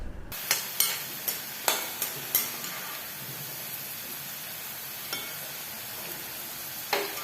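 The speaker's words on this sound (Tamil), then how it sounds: "பூண்டு பற்களை அதனுடைய நிறம் மாறும் அளவிற்கு வதக்கிக் கொள்ளலாம்." Garlic cloves sauté in a pan for marunthu kulambu with a faint steady sizzle under a run of crisp spoon taps against the pan early on, then sparser knocks, with no speech.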